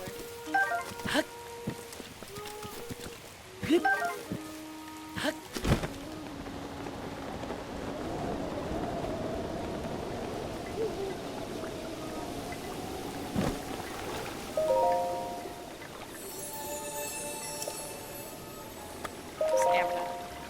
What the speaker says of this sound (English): Sure is rain